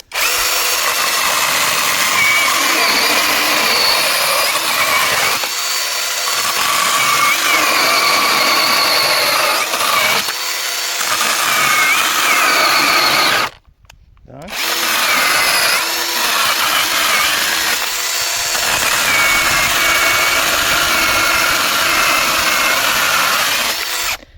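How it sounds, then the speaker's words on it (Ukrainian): Procraft PKA32LI cordless chainsaw bites through a dry oak log, its motor whining loud and steady under load for most of the run, with brief dips and a short full stop partway before cutting resumes. "Знайшов ось таке дубове сухе поліно, спробуємо, чи справиться прокрафт з ним."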